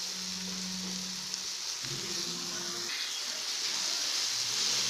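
Soya chunks fry in a hot pan with a steady, hissing sizzle that continues throughout, joined by a low hum and faint stirring.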